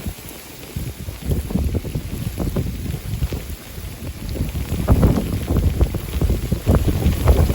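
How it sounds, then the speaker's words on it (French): A violent gust of wind buffets the microphone during a December gale, a loud, rough rumble that swells and churns unevenly with no talk over it. "Ça y est. Violente rafale."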